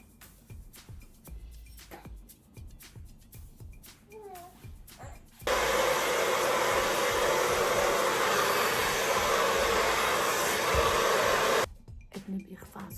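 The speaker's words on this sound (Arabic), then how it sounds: "ابني بيخفى على صوت استشوار" A loud, steady hair dryer roars for several seconds, cutting in abruptly after some quiet background talk and shutting off just as suddenly.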